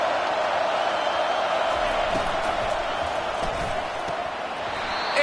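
A large stadium crowd at a Marshall versus Arizona State college football game roars as a steady, loud wash of noise, with a play-by-play voice faintly underneath.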